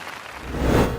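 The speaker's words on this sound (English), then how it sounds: "So let's give them a big round of applause as well." An audience at the Indian Terrain summer fashion show in 2018 breaks into applause, a soft patter of clapping that quickly builds into a fuller, louder ovation.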